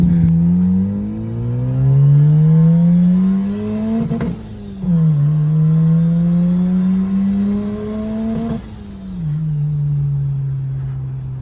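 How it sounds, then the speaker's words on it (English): A car with a Bridgeport-ported turbo Renesis rotary engine drives off, its buzzing engine note climbing through gears in long revving pulls with brief dips at shifts, loud and close from start to finish. "We're going to take it for a quick little drive just to see if everything's all good."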